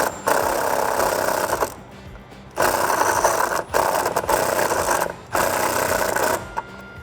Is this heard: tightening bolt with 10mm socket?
yes